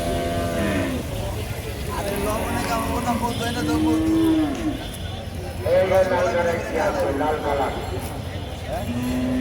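Several cattle moo repeatedly, some drawn-out and close, amid a busy crowd of talking people and general bustle at Dholaikhal cattle market.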